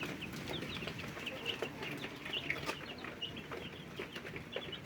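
Chickens cluck and chirp softly while eating feed, repeated short calls over a busy, fairly faint farmyard background with no talking.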